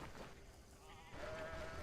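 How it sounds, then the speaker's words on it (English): Sheep bleating in the fantasy video game Stoneshard, a faint wavering bleat rising near the end over a soft steady background. "That's a lot of sheeps."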